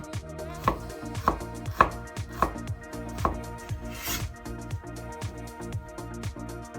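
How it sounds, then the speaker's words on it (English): Knife chopping through 30 grams of garlic on a cutting board, about half a dozen crisp, evenly spaced strikes close up, with faint background music beneath and no talking. "Slice 30 grams of garlic."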